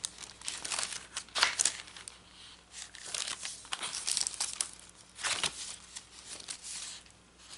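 Parchment paper and graph paper handled by hand in junk journal crafting: intermittent crinkling and rustling bursts, soft and close, alone without talk.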